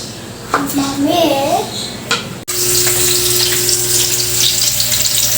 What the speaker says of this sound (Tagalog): Naggisa na nga guys ng sibuyas at bawang para sa igado.